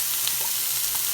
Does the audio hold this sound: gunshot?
no